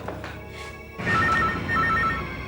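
Inside a house during a tense crime-drama scene, a telephone rings loudly in repeated trilling bursts that start after a short quiet moment.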